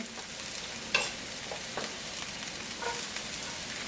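Onion frying in virgin coconut oil over medium heat, a steady soft sizzle with a brief scrape or clink near the start and light stirring sounds, no voices.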